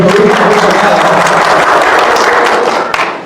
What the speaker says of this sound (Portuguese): uma salva de palmas para o nosso Major